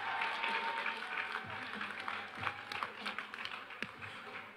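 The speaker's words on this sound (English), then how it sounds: "You guys give them a round of applause." Audience applause at a crowning ceremony in Seattle, a dense, steady wash of clapping lasting several seconds, with crowd voices and chatter mixed in underneath.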